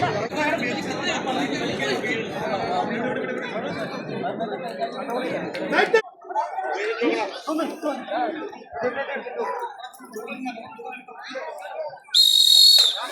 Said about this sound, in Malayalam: വിസിൽ മുഴങ്ങിയിരിക്കുന്നു